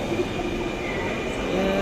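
Steady rumble and hum of a metro train at Karwan Bazar station in Dhaka during a crowded rush hour, with a faint high squeal and some voices in the background.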